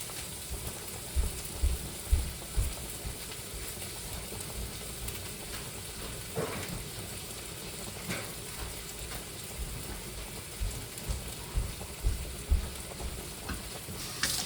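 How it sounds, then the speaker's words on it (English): A pound of part-frozen ground beef cooks in a pan with a steady close sizzle and crackle, broken by regular soft knocks and scrapes of a tool stirring and breaking up the meat. "we'll go ahead and pour in the 1 pound of ground beef."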